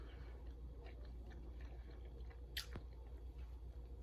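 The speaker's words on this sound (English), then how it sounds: "Let me chew this up." Someone chews a hot dog with relish, onions and mustard in soft, close, wet mouthfuls, quiet and continuous, with one sharper click partway through and no talking.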